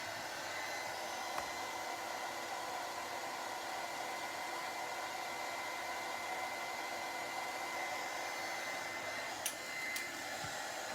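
A heat gun blows steadily over rust paste drying on an old camera, giving a constant even whooshing hiss for the whole stretch, with a couple of faint clicks near the end.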